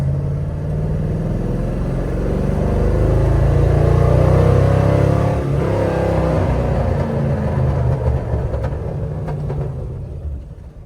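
Car engine idling around 900 RPM after a 6-speed manual swap, with a brake dragging, heard close up in a garage; a steady low rumble holds throughout and swells slightly in the middle.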